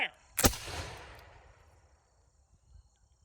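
Revolutionary War flintlock muskets fire a volley on command, making one loud, sharp crack that rolls out in a long reverberating tail outdoors, with faint insect chirps in the background.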